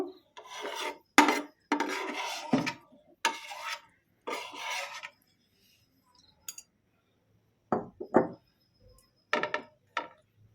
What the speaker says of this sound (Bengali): চিংড়িটাতে মশলা মাখি একটু ম্যারিনেট করে নেব